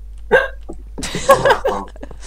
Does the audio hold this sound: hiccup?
yes